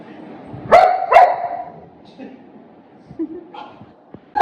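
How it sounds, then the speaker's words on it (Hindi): A pet dog barks twice sharply and loudly near the microphone, followed by quieter scattered yips and small noises. "देख लो और टाइसन भी भौंक रहा है"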